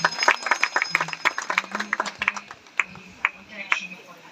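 Guests applaud at a wedding ceremony in Dolma, Phulbaria, Mymensingh. Sharp, scattered claps are mixed with a voice talking over them, and the clapping thins out toward the end.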